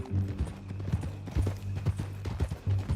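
Horse hooves clip-clopping at a steady walking rhythm in Red Dead Redemption 2, close and clear, with soft ambient game sound beneath and no talk.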